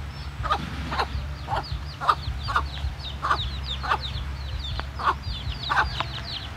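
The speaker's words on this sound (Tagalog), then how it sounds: "Ang ingay po ng aking mga manok, ayan po sila." Several chickens cluck and call repeatedly in short bursts over a steady low rumble, fairly close and with no talking, at an outdoor spot where plants are being propagated.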